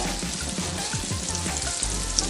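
Coconut and chicken tipped into hot oil for a restaurant-style chicken chilli chukka, giving a steady close sizzle and crackle of frying that runs without a break under no talk.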